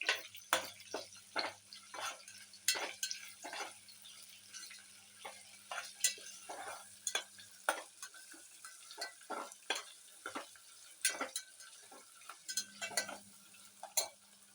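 Grated ginger fries in a pan while Bombay rava upma is cooked. Soft sizzling runs throughout, broken by frequent sharp ticks and scrapes from stirring. No one speaks.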